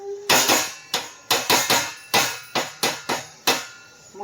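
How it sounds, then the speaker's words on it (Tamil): A metal lid clanks onto a pot of seeraga samba mutton biryani in a home kitchen: about nine sharp, ringing knocks in an uneven rhythm, close and loud with no talking. "மூடி வச்சிடலாம்."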